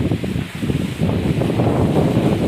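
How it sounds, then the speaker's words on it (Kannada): Wind blowing hard during rain outdoors, a loud, steady rushing roar with buffeting against the microphone and a faint rustle beneath, with no talking. "ಮಳೆ ಬರತ್ಮ ಗಾಳಿ ಹತ್ರ ಬಿಟ್ಟದ್ರಿ"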